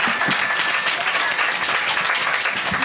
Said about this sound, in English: I want you all to applaud like your civil rights depended on it.